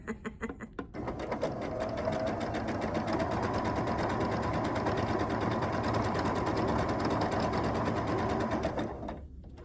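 A sewing machine runs in one long, fast, even burst, stitching a quilt block after a few brief start-up pulses, then stops near the end.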